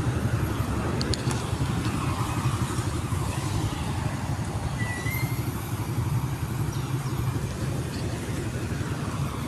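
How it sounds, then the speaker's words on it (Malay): A car passes on the road at the entrance to Parliament, its engine and tyre noise forming a steady, loud broadband rumble with traffic hum throughout and no clear peak. "Satu lagi kereta YB lalu."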